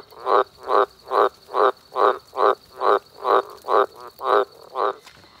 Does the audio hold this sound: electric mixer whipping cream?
no